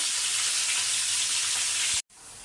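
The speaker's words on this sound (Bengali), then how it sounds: "এ তো মাছ ভাজা হয়ে গেছে, এখন হচ্ছে মাছটা ভুনা করে নেব" Fish sizzling loudly as it fries in a pan in a home kitchen, a steady close hiss that stops abruptly near the end, leaving faint residual frying.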